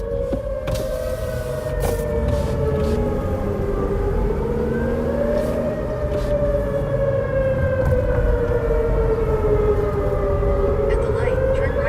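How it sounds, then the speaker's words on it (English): Emergency sirens wailing steadily, rising and falling over continuous low road rumble in Kansas during a supercell storm, fairly loud and sustained throughout. "sirens are going off here"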